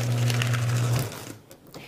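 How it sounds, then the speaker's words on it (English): GoECOlife GXC200T 20-sheet cross-cut commercial paper shredder grinding through paper with a steady motor hum and crunching, then the hum drops out and the cutting noise thins near the end. "Now, as we shred, I'm going to show you a great feature of this shredder."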